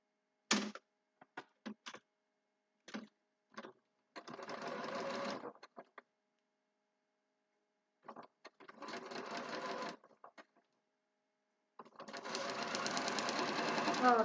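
A sewing machine stitches fabric in short taps, then longer whirring runs, loud and close, with pauses between bursts.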